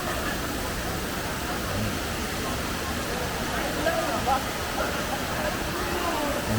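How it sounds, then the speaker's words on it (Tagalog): Steady, broadband rushing of river water in Infanta, Quezon fills the whole stretch, constant and fairly loud with no pauses. "Maingay yung tubig. Sarap sa tenga."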